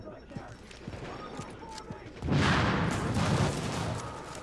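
Gunfire from the video game The Division during a damage test on a shielded enemy, with quiet clicks at first, then a loud sustained burst of shots and rumbling from about halfway on.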